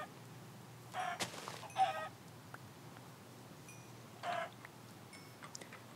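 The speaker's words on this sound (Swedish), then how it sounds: "Oj, här är en massa höns och grejer också." Chickens in the video game Minecraft cluck in short separate bursts, a few calls spread across a quiet stretch, fairly faint and with no talk over them.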